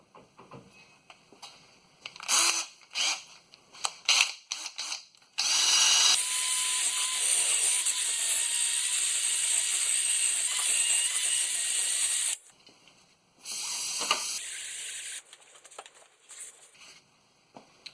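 Power tool whirring against a rusty 2019 Chevy Silverado brake hub, starting with short bursts, then a long steady grinding run of several seconds, a pause, and another shorter burst, loud and close.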